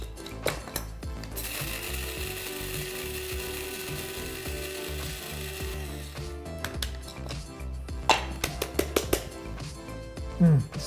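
A hand grinder ratchets and crunches through black peppercorns and paprika for a steak dry rub, one sustained grinding stretch followed by a series of sharp clicking turns and knocks.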